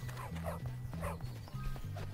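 Dog barking in the Bully video game, a run of short repeated barks in quick rhythm over a steady low game tone, moderately loud and close.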